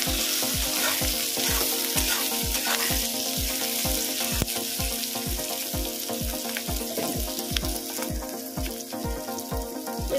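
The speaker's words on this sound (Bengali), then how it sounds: "পেঁয়াজটা ভাজা হয়ে গেছে, এর মধ্যে দেবো ক্যাপসিকাম কেটে রাখা। এটাকেও ভালো করে নেড়ে নেব।" Onion and chopped capsicum fry in a pan with a steady close sizzle, broken by regular scraping strokes of stirring under a faint musical drone.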